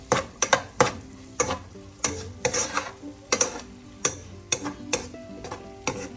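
Cauliflower thoran is stirred in a pan, a spoon scraping and knocking against the metal in a quick, uneven run of sharp taps, close and with no talking.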